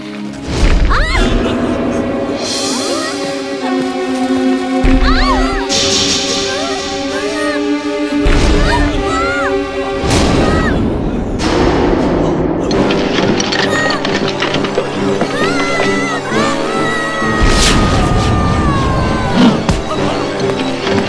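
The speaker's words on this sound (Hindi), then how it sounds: "लगता है कोई मीटियोर टूट के गिर रहे हैं।" Meteors crashing down in the Vir The Robot Boy cartoon, with a series of loud booming impacts and crashes over a busy music score, and voices talking in between.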